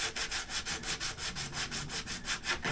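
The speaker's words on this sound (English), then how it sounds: "I'll scuff this up a bit." Abrasive scuffing of a plastic scooter or motorcycle body panel before filler goes on, a steady rhythmic back-and-forth rasp of about a dozen quick strokes, close and alone.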